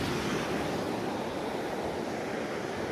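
Strong ocean waves surging into a beach cove at Paniman, Ternate, a steady loud roar of surf with wind noise on the microphone, no voices.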